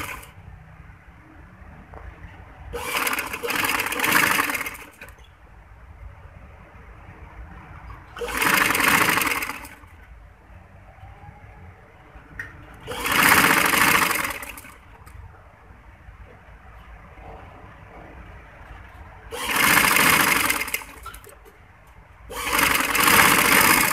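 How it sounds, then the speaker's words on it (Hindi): Sewing machine stitching piping onto a sleeve, running in five bursts of rapid loud mechanical clatter, each lasting one to two seconds, separated by quiet pauses with low background hum. "अब हम इसको इस तरीके से ऐसे करके सिलाई लगाएंगे"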